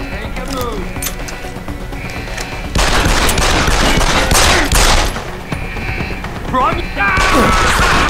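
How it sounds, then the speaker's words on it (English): Video game gunfire crackles in rapid bursts and fusillades with crashing impacts, loud and dense throughout, while a player talks over it. "Fucking gunshots!"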